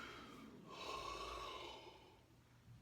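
A woman's long, breathy yawn, rising in a drawn-out inhale with a faint vocal tone in the middle and trailing off into a soft exhale, close and quiet with no words.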